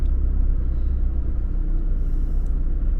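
A car drives through the busy town streets of Port Douglas in tropical North Queensland, its steady, loud engine and road rumble running throughout with no break.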